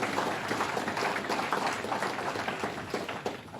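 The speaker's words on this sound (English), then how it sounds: "Give him a round of applause" Steady applause from an audience at a government announcement event, dense continuous clapping honouring President Wallerstein, moderately loud and sustained throughout without a break.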